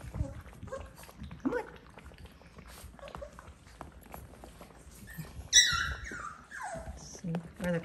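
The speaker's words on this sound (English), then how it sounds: "Puppies, puppies, puppies!" Doodle puppies give scattered high whimpers and yips, with one louder sharp cry in the middle, short and irregular over background noise while a person calls to them.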